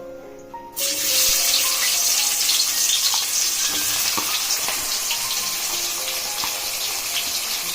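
Sliced onions drop into hot fish oil left from frying katla fish, bursting into a loud, steady sizzle after a brief quiet start, with faint stirring clinks under the continuous hiss.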